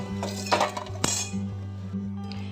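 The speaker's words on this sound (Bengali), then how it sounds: "এপিটোপিট করে ভাজা হয়ে গেছে এখন এগুলো আমি থালার মধ্যে তুলে নেব" Fried raw banana pieces are lifted onto a metal plate, giving a few clear metallic clinks and scrapes over a steady background hum.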